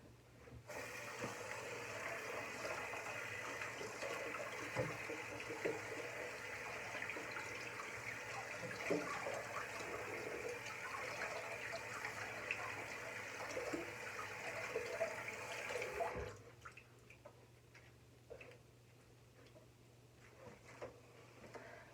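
Water runs steadily from a tap while skin care product is rinsed off a face, a continuous close wash for about sixteen seconds that then cuts off, leaving faint splashes and small handling noises.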